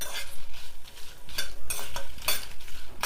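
Coriander seeds, cumin and dried red chillies dry-roasting in a pan as a spoon stirs them, giving close, repeated scraping and rattling strokes in irregular bursts, with no voices.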